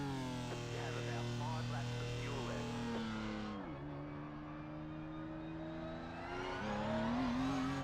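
BMW M4 GT3 race car engine in the iRacing simulator on the Nordschleife, a steady droning hum with a pitch dip and shift midway, then climbing again near the end, continuous and fairly close.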